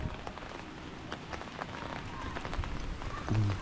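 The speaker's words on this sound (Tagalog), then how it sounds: "Lumalakas na yung ulan." Heavy rain gathering strength at a house construction site where a slab form is being extended, a steady dense patter on surfaces with scattered drips that swells slightly toward the end.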